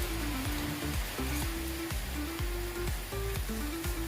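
Food with lemon zest simmers in a pan on the stove, giving a steady, close sizzle and crackle over a low bubbling hum that runs without a break.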